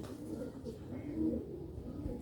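A pigeon of an old green-beaded Sialkot breed cooing softly in a low, throaty rolling murmur, faint and close for a couple of seconds.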